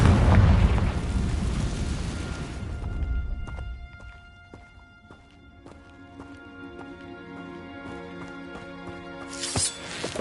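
A Confringo fire spell bursts in Hogwarts Legacy with a loud, roaring blast at the start that fades over a few seconds into a lingering rumble, with sparkling magical tones and a softer flare near the end.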